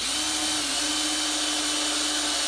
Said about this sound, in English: I can go ahead and drill a hole in it.